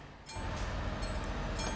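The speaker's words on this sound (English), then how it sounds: "there's that crossing sound you can hear" Bright metallic railway crossing bells in Euro Truck Simulator 2, Czech Republic style, ring repeatedly over a heavy rolling train rumble, the chimes striking at a quick steady pace as the noise builds and stays loud.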